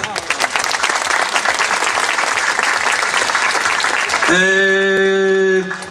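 An audience at an Italian song festival in Wyrzysk claps loudly and continuously, a dense crowd applause that carries on until a sustained musical chord enters near the end.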